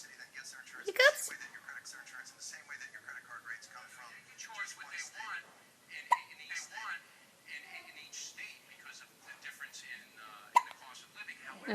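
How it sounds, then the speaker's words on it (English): A person hiccups indoors, a few sharp isolated jolts spaced several seconds apart, heard close under people talking. "You get hiccups?"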